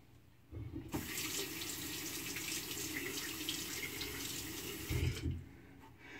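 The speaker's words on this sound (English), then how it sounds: "I'm just rinsing it off my razor off with a fresh water by opening the tap every single time I need to rinse" Fresh water runs steadily from an open bathroom tap onto a razor being rinsed during a shave with an Edwin Jagger DE89, a continuous close splashing stream for several seconds that cuts off near the end.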